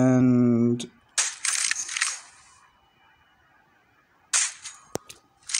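Ballista sniper rifle shots in a video game: a couple of sharp, loud cracks with crisp mechanical rattles, separated by quiet stretches, and a brief voice at the very start.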